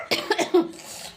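A small child coughs several times in quick, close bursts, with a short throaty rasp trailing at the end. The coughs are near and moderately loud.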